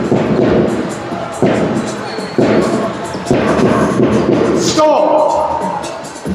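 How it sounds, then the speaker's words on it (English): Crowd cheering and stamping at a live basketball game between Hemel Storm and Nottingham Hoods, a loud indoor roar punctuated by rhythmic heavy thuds, with an announcer talking over it. "let's make some noise for your Hemel Storm!"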